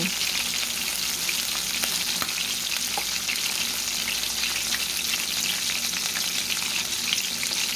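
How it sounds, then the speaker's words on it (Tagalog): Chicken fries in a pan with a loud, steady close sizzle and crackling oil, and faint stirring or shifting of the pieces throughout. "Binaligtan na natin itong chicken."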